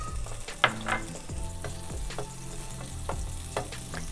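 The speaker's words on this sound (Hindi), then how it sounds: "पैन में हम मक्खन डालेंगे" Butter sizzles and fries steadily in a pan, with a few sharp clanks and scrapes of a utensil against the metal over a continuous low crackle.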